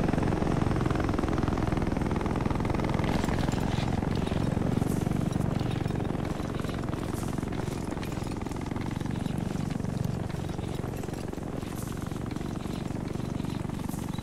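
Helicopter taking off in the video game ARMA 3, a continuous rotor and turbine rumble with a rhythmic chop, steady and fairly loud throughout, with no talk over it.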